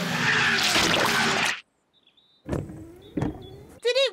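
A cartoon truck engine strains loudly in one long, rough, rising burst, then cuts off abruptly, followed by a few short clunks and a brief squeaky chirp.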